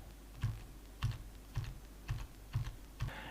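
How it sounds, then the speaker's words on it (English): Keys on a computer keyboard are pressed one at a time in six separate, fairly evenly spaced clicks, close and moderately quiet against a soft background hum. "Now hit J on your keyboard."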